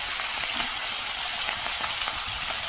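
Fish frying in a pan with coffee, a steady loud broadband sizzle filling the whole stretch, close and continuous with no talk.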